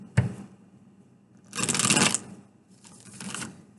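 Tarot cards shuffled in two distinct bursts of dense riffling, the first longer and louder, the second softer, separated by quiet handling noise.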